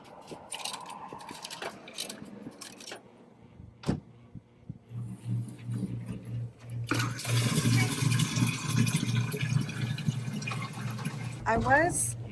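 Water pours into a jug at a roadside water vending machine in Truth or Consequences, New Mexico, a steady splashing fill rising in level, with mechanical clunks and a coin drop earlier and a person talking.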